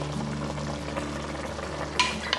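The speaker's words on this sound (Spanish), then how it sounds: "A continuación le agregamos la salsa de tomate." Tomato sauce goes into a pan of frying ground meat seasoned with basil and oregano, a soft continuous sizzle with a brief clatter near the end.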